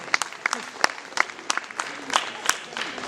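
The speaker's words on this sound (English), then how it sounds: "Let us give a big applause, dear friends." Applause from an audience after a stage performance of Shakespeare's Julius Caesar, a thin, scattered clapping with sharp individual claps standing out over faint background murmur.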